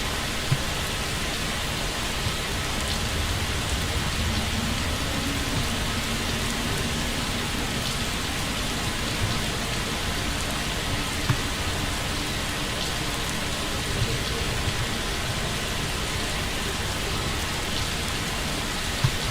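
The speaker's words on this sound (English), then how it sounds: "And man, this place is dreary when it's raining." Steady rain falling in the video game Fallout London, a constant even hiss of downpour that continues unchanged throughout without breaks.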